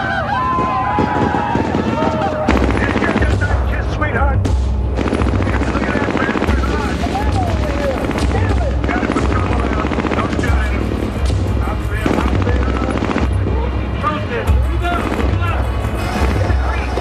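Military helicopter under attack during the armed siege at Wounded Knee, its steady low rotor drone filling the scene with bursts of gunfire and shouting voices over it, loud and close throughout.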